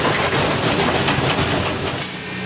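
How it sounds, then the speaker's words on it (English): Historic narrow-gauge steam engine 487 on the Cumbres & Toltec Scenic Railroad rolling along the rails, a steady dense rumble and rattle heard from close by. "I love steam trains"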